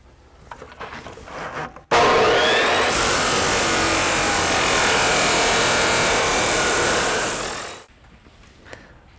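An abrasive cutoff saw slices through steel threaded rod, a loud sustained grinding whine that starts abruptly, holds steady for about six seconds, then winds down, with quieter shop noise before and after.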